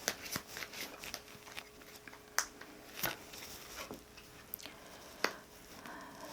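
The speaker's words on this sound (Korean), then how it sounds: "조언 카드 하나 뽑아 보겠습니다" Tarot cards being shuffled and drawn, soft close papery riffles and sharp flicks and taps at irregular intervals, quiet with no speech.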